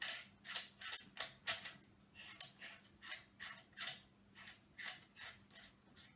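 Threading a visual back onto the rear of a Celestron C90 telescope gives a series of small, close mechanical clicks and scrapes, irregular but steady, with no talking.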